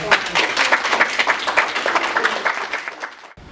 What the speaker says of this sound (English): I think we need to give him a big round of applause.